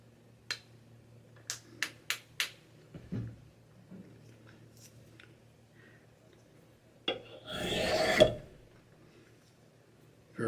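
A small wooden finger or palm plane shaving wood, heard as a few light, sharp ticks followed by one longer rasping stroke near the end, close and fairly quiet.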